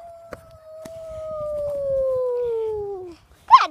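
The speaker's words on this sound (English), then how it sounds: "Bad dog, get down." Dogs howl in one long, steady, slowly falling note that trails off, followed by a sharp short yelp at the end, close and clear with a few faint knocks behind.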